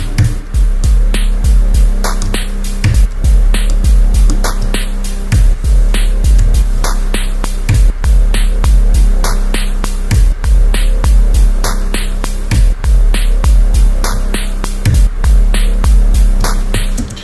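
Ambient electronica synth pads swell and pulse in a slow, steady rhythm. Big reverb and delay let each repeating tone ring out, and bright echoing blips recur over a deep sustained low drone, with no one speaking.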